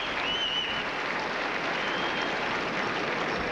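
A large crowd at a 2001 Montreal hardcourt tennis quarterfinal applauds steadily after the match, a dense, even wash of clapping lasting throughout.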